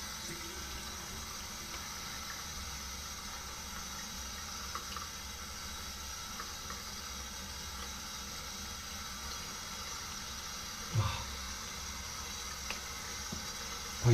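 Water running and splashing steadily as a face is rinsed after shaving, a continuous faucet-like wash with a couple of louder splashes near the end, no talking.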